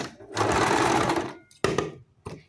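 A sewing machine runs in quick bursts while stitching a zip onto a lehenga: one longer close run, then two shorter spurts, each with a hard mechanical start.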